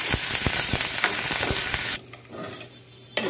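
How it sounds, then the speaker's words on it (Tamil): Onions and curry leaves hit hot oil in a pan while a green dal kurma is being cooked, giving a loud, continuous sizzle with stirring scrapes that suddenly drops to a quieter fry. "எண்ணெய் ஊற்றிருக்கேன், அது சூடாகிடுச்சு. இப்போ வெங்காயம் போடுவோம்."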